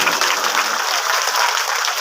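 Loud, dense applause fills a hall during a Shrimad Bhagavat katha religious discourse, many hands clapping steadily and close without pause.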